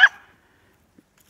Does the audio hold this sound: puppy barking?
yes